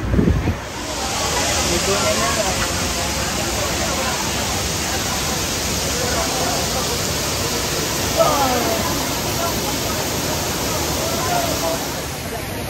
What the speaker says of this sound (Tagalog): nandito kami ngayon sa Pinlock, guys. Pinlock Falls.